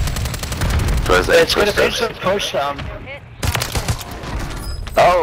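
Sniper rifle shots crack out in the Warzone 3 game, sharp loud reports mixed among other gunfire, with someone talking over the action.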